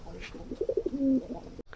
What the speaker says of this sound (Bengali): আমাদের এই কবুতরগুলো দেখেন অনেক সুন্দর ডিম দিয়ে দেবে